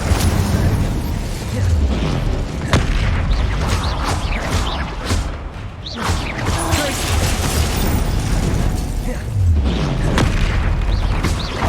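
Incendio fire spell blasts in a Harry Potter-style video game, a dense run of loud booming bursts and magical whooshes over continuous game noise, with low rumbling impacts recurring throughout.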